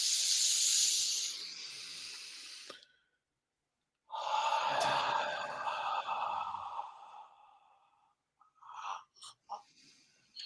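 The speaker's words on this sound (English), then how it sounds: "Exhale." Long, forceful breath exhaled through the mouth as part of a guided breathing exercise, a rushing hiss lasting a few seconds, then a pause and a second drawn-out breath that trails off into softer puffs.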